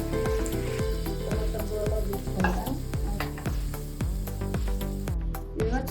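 Cluster beans sizzling in a pan while being stirred, a steady close fry with repeated scraping strokes of a spatula across the pan throughout.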